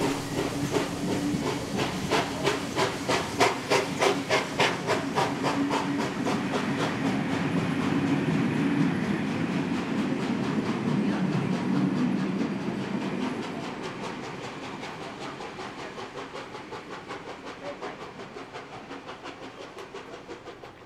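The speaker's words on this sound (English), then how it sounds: "The locomotive will now leave for its destination, Wollongong" Steam locomotive 3642 departs toward Wollongong in New South Wales, loud rhythmic chuffing and steam hiss building as it pulls away, followed by a long rolling rumble and clickety-clack of carriages passing.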